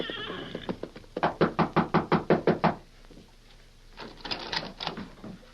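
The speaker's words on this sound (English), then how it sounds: "flung himself from the back of an exhausted horse and knocked at the rear door of the Rainbow Cafe" Knocking on the rear door of a cafe in an old western radio drama: a rapid series of about ten loud, evenly spaced knocks, some softer taps before, then a short shuffle of movement.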